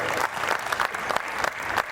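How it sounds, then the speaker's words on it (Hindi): Audience members at a Hindi poetry recital in Gondia clap together in a brief, steady burst of applause, close and fairly loud, with no clear speech over it. "एक बार तालियां बजाइए जोर से"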